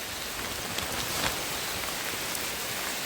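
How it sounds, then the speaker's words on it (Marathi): Steady rain falls over a Konkan village, a dense, even patter that holds at the same level throughout with only faint individual drop taps standing out. "पाऊस पण बरा झाला आहे"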